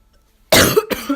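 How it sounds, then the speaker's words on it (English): A sick person coughs loudly and close after a brief silence, with a harsh burst followed by a second shorter cough. "I hate the fact that I'm sick and I have to cough."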